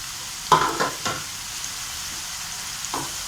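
Onions sautéing in a pan for a roadside-style salna, a soft continuous sizzle with a few scattered scrapes of a spoon, moderately quiet, no voices.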